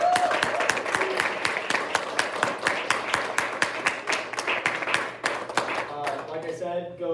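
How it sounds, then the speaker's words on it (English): A small audience at an education talk claps in a loose round of applause, individual claps clearly spaced and close, with voices talking over it as it tapers off. "Round of applause for Dr. Garrett, everybody."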